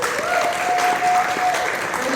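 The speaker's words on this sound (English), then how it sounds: "Round of applause." A convention panel audience claps in a brief, steady burst of applause, moderately loud and filling the room, with a voice speaking over it.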